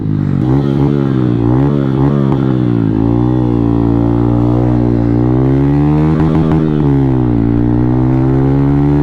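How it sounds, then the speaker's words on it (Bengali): A Bajaj N160 motorcycle with a loud aftermarket exhaust runs at full throttle, a close, continuous deep droning roar with rising and falling pitch as the revs climb and drop. "এক্সজস্ট ভাই ফুল থ্রটল"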